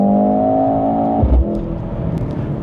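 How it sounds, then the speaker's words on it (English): A 2025 Mercedes-AMG GLC 63 S engine and exhaust accelerating, a loud, close, rising drone that drops off abruptly as the revs fall, then settles into a lower rumble. "Beautiful sounding exhaust."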